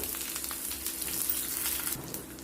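Cumin, coriander seeds, fenugreek and dried red chillies frying in hot oil over low heat for tomato pachadi, a steady soft sizzle with faint crackles, close and continuous with no voices.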